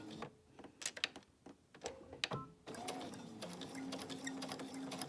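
A home sewing machine works on knit fabric, first with a few separate clicks of single stitches, then a steady, quiet, close whirring run as it keeps sewing.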